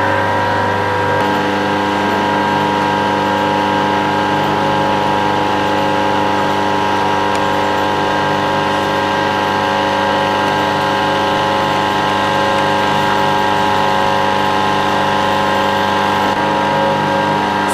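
A single-phase electric motor on a direct-on-line starter circuit hums steadily after starting up, a constant tonal drone with a faint whine, loud and unchanging for the whole stretch.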